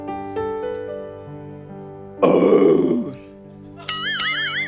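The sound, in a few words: burp after eating lunch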